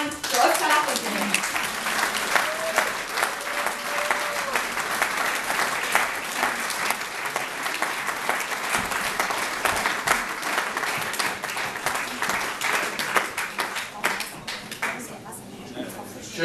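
Sustained applause from an audience at a Die Linke New Year's reception in Homburg, welcoming Oskar Lafontaine to the stage, steady and full for about sixteen seconds before thinning slightly at the end.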